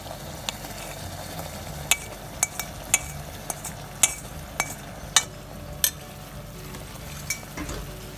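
Wheat halwa being stirred in a pan with caramel mixed in, a steady low sizzle under a series of sharp clinks and scrapes of the spoon against the pan, close and moderately loud, with no talking.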